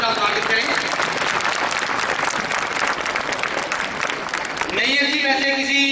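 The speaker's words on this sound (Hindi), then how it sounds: "जोरदार तालियों के साथ बच्चों इनका स्वागत करें।" Applause rises from students and guests at a girls' school science block inauguration in Chamba, a dense wash of clapping that fills most of the moment before a voice returns near the end.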